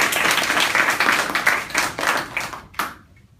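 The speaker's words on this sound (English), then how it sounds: "everyone give Stephan a round of applause." Audience applause for a speaker giving a cultural artifact talk, a loud burst of many hands clapping that thins out and stops, ending with a few last claps and then quiet.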